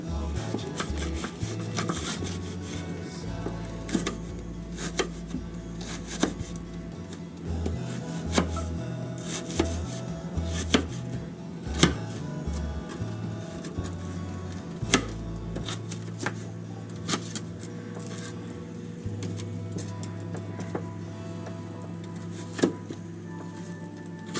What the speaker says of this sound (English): now I'm going to cut up the onion to put in my dressing